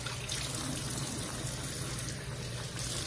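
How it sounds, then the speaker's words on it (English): Water runs steadily from a bathroom sink tap, a continuous close hiss with no breaks and no voices. "I wipe this off with water"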